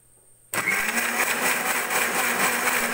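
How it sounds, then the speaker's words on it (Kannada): A kitchen mixer grinder for chilli powder switches on after a brief quiet moment, then runs with a loud, steady high-pitched whir. "ಇದು ನಮ್ಮ ಮಿಕ್ಸಿ ಆಗಿದೆ"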